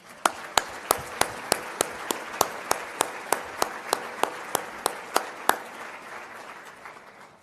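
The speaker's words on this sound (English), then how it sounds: "Let's give all of them a round of applause." Audience applauds at a small business week ceremony in Arlington, Texas, a steady round of clapping punctuated by loud, evenly spaced sharp claps close to the microphone that stop near the end.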